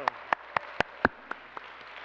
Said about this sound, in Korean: 우리 다시 한번 큰 박수로 우리 지금 하나님께 경배합시다